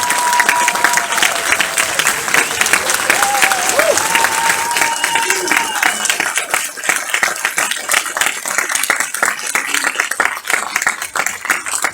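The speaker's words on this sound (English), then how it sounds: "Can we give them a round of applause?" A film festival audience claps steadily in sustained applause, dense and loud throughout, with faint voices and a few whistles mixed in near the start.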